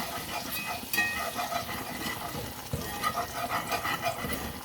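Flour stirred into pork chop pan drippings to make a roux, a steady gentle sizzle with scraping and stirring in the pan, close and continuous without talk.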